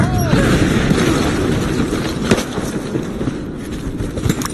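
Dense gunfire from a firefight in the video game Rise of the Tomb Raider: a continuous rattle of shots and booms, with a sharper blast standing out midway, loud and close throughout.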